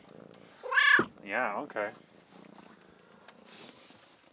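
A full-grown male cat purrs and lets out a short meow close by, heard in brief bursts, while a person speaks a few words.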